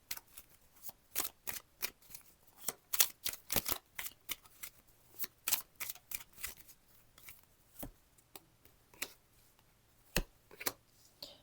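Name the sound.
shuffling tarot and oracle cards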